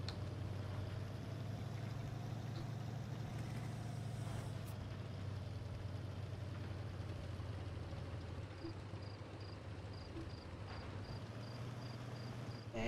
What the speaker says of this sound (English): engine power and let's get there as quick as possible.